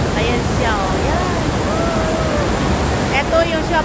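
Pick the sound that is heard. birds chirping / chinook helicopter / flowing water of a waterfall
flowing water of a waterfall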